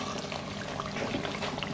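Cream poured from a can into chicken in a cooking pot over a high flame, a soft continuous liquid pour with faint bubbling, close and fairly quiet, with no talk.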